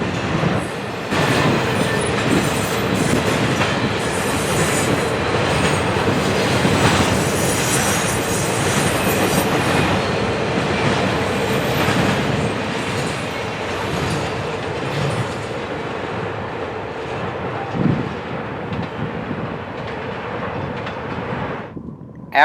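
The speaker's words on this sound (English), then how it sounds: "we can see the locomotives of an approaching eastbound autorec train on the Chicago line" An eastbound autorack freight train on the Chicago line at Berea rumbles steadily and loudly, with locomotive drone, rolling wheels and occasional clatter, heard alone without voices.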